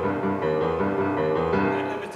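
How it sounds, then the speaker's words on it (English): Simple boogie woogie played on solo piano, a steady rolling left-hand bass pattern under bright right-hand chords, continuous and close with no talking. "this is a simple boogie woogie"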